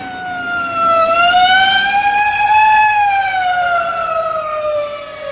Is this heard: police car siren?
yes